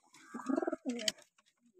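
Pigeons kept in a home loft coo softly in a short, close burst of low, rolling calls, with a brief pause and a faint trailing note.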